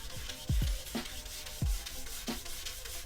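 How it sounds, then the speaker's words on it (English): Rhythmic rubbing strokes of wet sandpaper over a scooter body panel, close and steady, with a few heavier low thumps between passes. "All we're doing is sanding, not adding too much pressure, letting the sandpaper do all the work."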